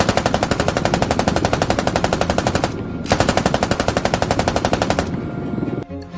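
A machine gun in a video game fires long, rapid, evenly spaced bursts, loud and close, with one brief gap before the shots stop near the end, with no talking over them.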